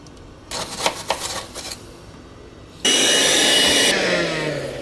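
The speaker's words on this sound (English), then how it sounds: "I'm just gonna take a metal brush, try and knock some of this rust out." Metal wire brush scrubbing rust off a part on a 1997 Cobra's cooling system, with several short rasping strokes followed by a loud, sustained spray-like hiss that fades slightly at the end.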